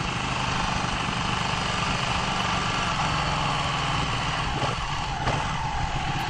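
A 2016 Ducati 1299 Panigale S motorcycle engine idling in neutral, a loud, steady, close rumble that holds even throughout with no talking.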